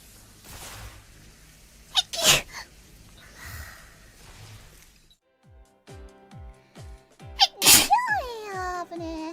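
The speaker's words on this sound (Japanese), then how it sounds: "あ、やばい、くしゃみでしょ" A woman sneezes sharply twice, with a gasping intake before each burst and quieter breaths and movement around them, heard close and loud against a mostly quiet background with a faint tonal pattern behind the second sneeze.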